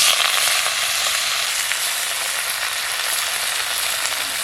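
Kharkol greens frying in a pan with black cumin and green chilies, a steady, loud, bright sizzle that holds evenly the whole time with no voices.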